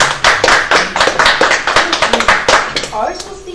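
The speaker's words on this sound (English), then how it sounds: "Are we supposed to be clapping?" A room full of people at a graduation ceremony breaks into steady applause, many hands clapping in rapid, overlapping bursts at close range, tapering off toward the end.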